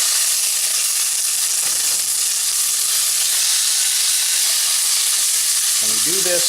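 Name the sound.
steaks searing in olive oil in a hot pan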